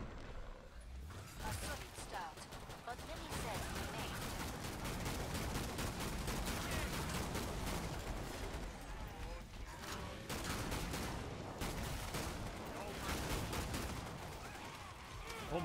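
Rapid gunfire in the co-op shooter Killing Floor 2, dense volleys of shots and mechanical clatter going on continuously, with players talking over the action.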